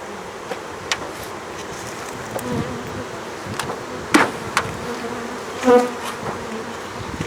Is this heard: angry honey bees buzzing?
yes